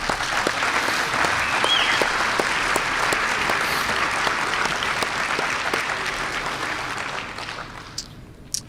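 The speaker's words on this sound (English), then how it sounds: "I think every one of them needs a big round of applause" A banquet crowd applauds loudly and steadily at the Iditarod 2022 after-race banquet in Nome, the clapping sustained for several seconds before tapering off near the end.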